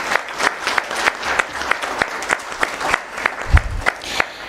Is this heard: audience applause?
yes